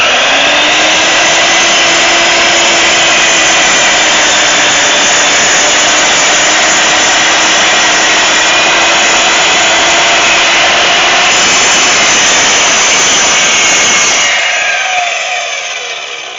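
A power saw rips through a wooden board to cut a 7-inch piece, a loud, steady whining roar held for about fourteen seconds before the blade winds down and fades.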